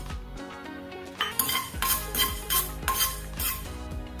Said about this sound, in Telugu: ప్యాన్ వేడయ్యాక ఇందులోకి మెంతులు వేసుకోవాలి